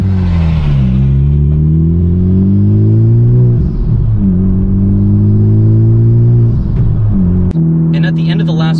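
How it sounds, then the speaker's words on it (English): A Honda Type R fitted with an M8 Performance catted downpipe drones loudly from inside the cabin, its exhaust swelling and falling through several rev sweeps, with a brief sharp click near the end. "I installed the M8 Performance catted downpipe on the Type R. This thing is so loud."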